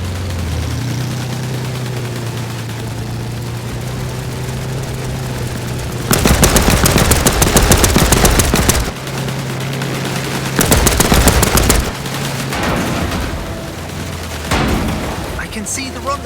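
Gunfire in the PC war game Land of War: The Beginning. Three loud, rapid automatic bursts cut through a low background hum, with in-game voices heard around them.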